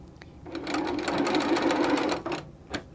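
A sewing machine stitches fabric strips for a quilted placemat or pot holder. One continuous, moderately loud burst of machine whirring runs for about two seconds after a short start, then stops, with no talking.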